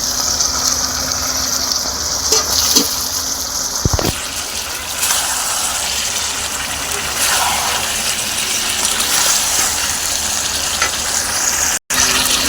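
Two chopped tomatoes drop into biryani masala frying in a pan, setting off a loud, continuous rushing sizzle with brief stirring knocks, steady throughout the clip.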